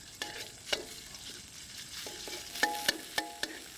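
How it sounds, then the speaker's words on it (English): Red curry paste fries in oil during a Thai cooking session around Chiang Mai: a faint low sizzle under sharp, irregular taps and scrapes of a utensil stirring the pan, with no voices. "fry the curry paste and also a little bit of curry powder as well"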